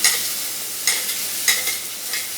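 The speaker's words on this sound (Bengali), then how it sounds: "পেঁয়াজগুলো ভাজা হয়ে গেছে এর মধ্যে আমি এই তিন চামচ দু চামচের মতো এটা দিয়ে দিচ্ছি" Onions fry in oil with ginger-garlic paste for a fish curry, a continuous close sizzle with three brief louder bursts as the spoon stirs.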